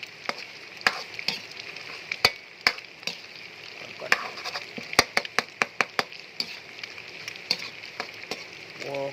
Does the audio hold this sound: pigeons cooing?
no